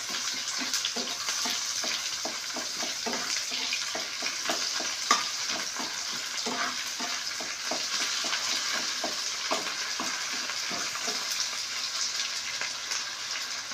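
Shital shutki, dried fish, fries with browned onions in a pan, a constant close crackling sizzle broken by repeated scraping strokes of a stirring spoon, with no voices over it.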